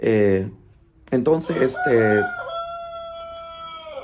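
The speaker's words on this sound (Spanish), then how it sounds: "Se escuchan los gallos cantar. Estamos cerca del gallinero" Someone speaks briefly, then a rooster at a neighbour's henhouse lets out one long, ringing crow that carries on alone and fairly close until the end.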